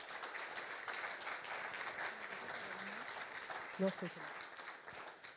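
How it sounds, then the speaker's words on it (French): Audience applause closing a conference session at an agile community event, faint, steady clapping throughout with a voice briefly speaking over it. "On peut l'applaudir, s'il vous plaît."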